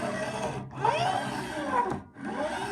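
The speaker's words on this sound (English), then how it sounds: "You can hear it grinding on the edges of the frets." A sanding block rasping back and forth against the metal frets of a Fender Stratocaster neck in steady strokes, a gritty grinding on the fret edges with brief pauses between passes, close and clear.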